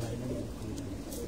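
Pigeons on a rooftop loft coo softly beneath a dense, steady background hum, the low calls blending into the continuous noise.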